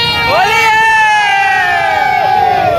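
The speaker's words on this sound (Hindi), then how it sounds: "यहाँ से होली चालू हो चुकी है, देख रहा हो इतनी भीड़ है पीछे" Dense festival crowd at Lathmar Holi in Barsana, with a loud continuous roar of cheering, whoops and shouting voices close around, overlapping chatter throughout.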